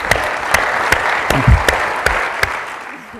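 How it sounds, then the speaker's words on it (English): Audience applause at a book conversation event with Arundhati Roy and Avi Lewis: a steady wash of clapping from the crowd, with sharp, evenly spaced claps from a nearby pair of hands standing out above it, tapering off at the end. "I'll clap for that"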